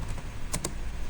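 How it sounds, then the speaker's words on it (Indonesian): A couple of quick, faint key clicks as an IP address is typed on a computer keyboard during a Cisco router configuration, alone with no talking. "kita bisa ketikkan IP-nya"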